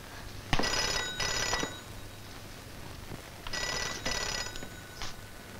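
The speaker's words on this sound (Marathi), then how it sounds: "थांबा कुणाचा फोन आहे तो बघते" An old-style telephone bell rings in two double bursts, loud and near, with a short quiet gap between the pairs.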